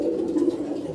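Pigeons coo softly on a rooftop loft, a brief low warbling murmur that carries on steadily without pause.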